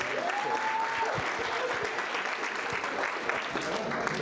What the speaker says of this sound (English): Another round of applause for Bess.